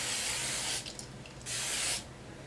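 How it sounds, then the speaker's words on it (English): Two short bursts from a hairspray can, a loud hissing spray each lasting under a second, with a brief pause between. "Then I spray it"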